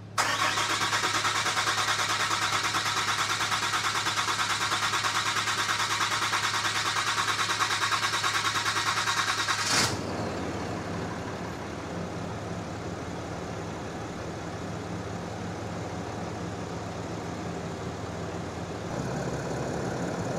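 A Cummins diesel engine with a dry fuel system, cranking steadily for about ten seconds before catching and settling into a lower, rumbling idle that picks up slightly near the end, with no voices over it.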